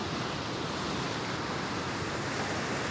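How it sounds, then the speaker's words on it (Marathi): Floodwater of the Megha river after heavy rain at Shirasgaon Kasba, Amravati, pours in a dense, even broadband roar, steady and unbroken throughout, with no voices. "मेघा नदीला पूर आलेला आहे आणि त्यामुळेच शिरसगाव कसबा गावात पाणीच पाणी झालेलं आहे।"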